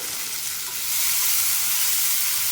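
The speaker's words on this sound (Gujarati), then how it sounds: "તો હવે આપણે ટામેટાને સાંતળી લઈએ." Medium-sized tomato pieces sautéing in hot oil over a medium flame, a dense continuous hiss of sizzling that swells slightly louder after a moment, close and alone.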